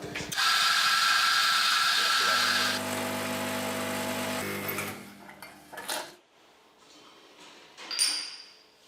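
A home coffee machine grinds loudly for several seconds with a harsh whirring buzz, then shifts to a lower mechanical hum before clattering to a stop, followed by a few faint clicks and knocks.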